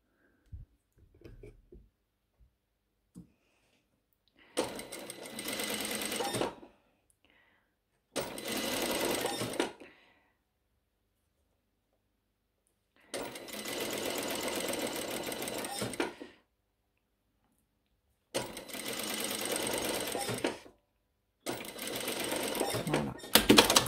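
Sewing machine stitching bias binding on a shirt, fabric folded at the edge, comes in five separate loud bursts of a second or a few seconds each, split by quiet pauses with faint handling noises.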